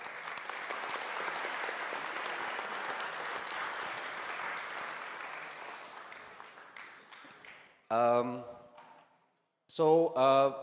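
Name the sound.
audience applause for keynote speaker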